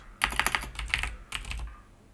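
Quick, light keystrokes on a computer keyboard tap out a short word in two rapid bursts separated by a brief pause, close and clear with no voices.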